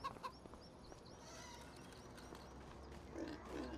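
Farm animals in Farming Simulator 25, with pigs grunting and chickens clucking around a starter-farm pigsty, are heard as faint scattered clucks and low grunts over a quiet background.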